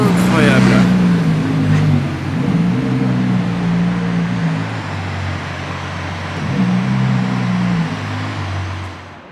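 A Ferrari Daytona SP3 on the streets of Monaco: a loud, close engine drone whose low tone falls and rises as the car moves past, with street noise underneath.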